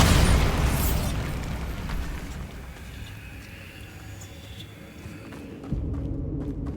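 An explosion from the Bombarda spell in the Hogwarts Legacy video game, a loud broad burst at the start that rumbles and decays over several seconds, with a low boom returning near the end.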